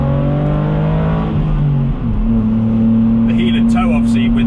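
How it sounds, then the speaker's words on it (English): Car engine revving as the driver blips the throttle with the clutch depressed for a heel-and-toe rev-match, a loud close drone that shifts pitch partway through and then holds steady. "you're blipping the throttle"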